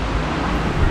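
Wind and rain blow at the beach in a cool-weather storm, with a dense, blustery roar and rumbling buffeting at close range, heard without clear speech.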